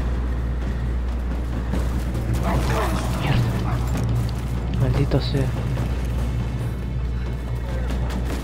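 Dogs bark in Rise of the Tomb Raider on Xbox Series S, with scattered yips and barks under a loud, steady game hum and mechanical rumble while someone talks over it.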